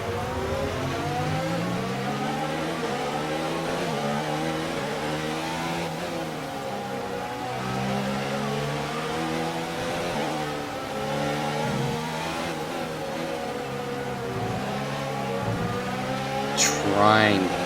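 Formula 1 race car in a racing video game, engine revving hard and high through the rev range with rising and falling harmonic sweeps, continuous and loud, with a short sharp burst near the end.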